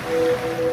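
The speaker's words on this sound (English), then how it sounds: "now you're drifting asleep to the scent and sound of waves" Ocean waves wash in a soft, steady surf inside a detergent commercial, a continuous low rush with a faint tone running through it and no voices.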